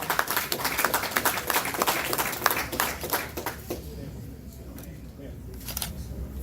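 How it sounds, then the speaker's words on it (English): Audience members at a boxing post-fight press conference give a brisk round of applause that fades after a few seconds into quieter room sound, with a last few scattered claps near the end. "A round of applause."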